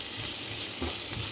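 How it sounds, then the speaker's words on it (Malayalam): Onion sautéing in oil for tomato chutney makes a dense, continuous close sizzle with soft stirring movements underneath. "ഇനി നമുക്ക് ഞാൻ സവാളയൊന്ന് എണ്ണയിലൊന്ന് വഴറ്റിയെടുക്കാം."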